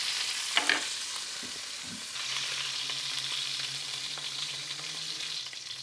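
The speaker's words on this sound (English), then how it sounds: "really just tossing it in that hot fat on the other sides" Sausage sizzles loudly in hot fat and olive oil in a pan as pieces are tossed and turned, a close, continuous crackle with a few clinks and stirring knocks.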